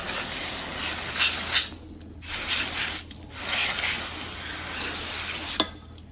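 Water sprayed in short hissing bursts over a skinned, sticky Stretch Armstrong toy in a machine shop, three or four rushes separated by brief pauses, close and fairly loud.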